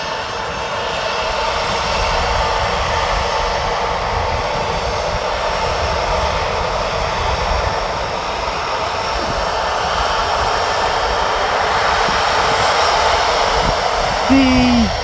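A jet airliner at Birmingham airport roars with a loud, continuous engine rush that swells slightly over the clip, with a brief voice near the end.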